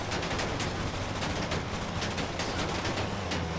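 Dense, continuous gunfire in Grand Theft Auto V Online, loud rapid shots overlapping into a steady barrage with no pauses, heard up close.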